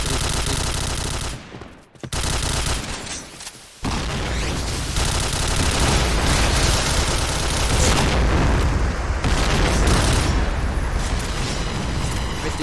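Bomb blasts and rapid bursts of gunfire from a shooter video game fill the scene, loud and nearly continuous, with heavy booms and a short drop to near silence early on.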